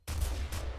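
A single heavy shotgun blast from Garry's Mod with the M9K weapons addon, loud and close, followed by a sustained booming rumble and a second burst of noise within under a second.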